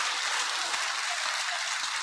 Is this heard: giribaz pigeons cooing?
no